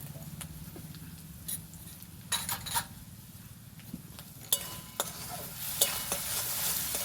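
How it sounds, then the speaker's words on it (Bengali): Spices seasoned with turmeric and a little sugar are stirred and fried for egg curry in a pan. A steady close sizzle runs throughout, with scraping strokes of the spoon and a few sharp clinks against the pan. "ভালো করে মিক্স করে নেব। ভালো করে কষিয়ে নেব।"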